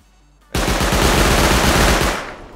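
Auto turret in the game Rust firing through a roof, a loud continuous burst of rapid automatic gunfire lasting about two seconds after a quiet moment, fading at the end.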